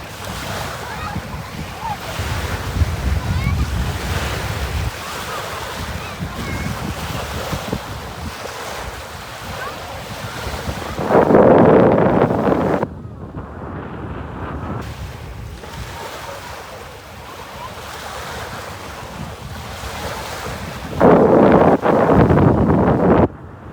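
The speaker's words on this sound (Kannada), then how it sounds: "ಕ್ರಾಶಿಂಗ್ ವೇವ್ಸ್ ಸದ್ದು ಕೇಳಿಸ್ಕೊಡಿ" Ocean surf rolls and breaks on a shore near Meenakshipura while strong wind buffets the microphone, a steady wash of water with two louder gust bursts.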